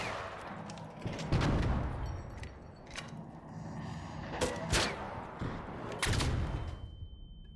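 Rascal grenade launcher shots and explosions in ARC Raiders, a series of loud booming blasts and sharp reports spaced irregularly over a rumbling battle background.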